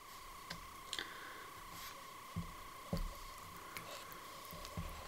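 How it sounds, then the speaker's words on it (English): Plaster is stirred with water in a container, faint wet squishing and scattered soft ticks and clicks of the mixing tool at an uneven pace over a low steady hum. "I'm gonna start by mixing in some of the plaster with water"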